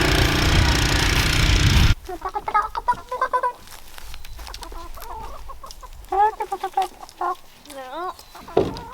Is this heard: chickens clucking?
yes